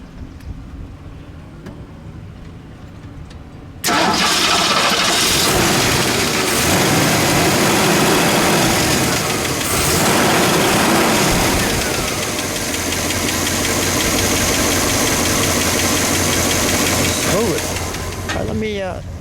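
A 1967 AMC Marlin's engine starts abruptly and settles into a loud, steady idle with a rough mechanical rumble that continues to the end.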